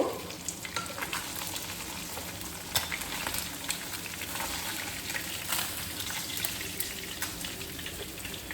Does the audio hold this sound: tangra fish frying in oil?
yes